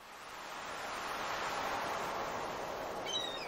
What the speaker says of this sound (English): Wow, sounds of the ocean in this game.